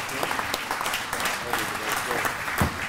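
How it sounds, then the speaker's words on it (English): Applause from an auctioneers' awards banquet crowd, honoring a speaker's wife: brisk clapping of many hands with some murmuring voices mixed in, fairly loud and steady throughout. "she deserves a big round of applause"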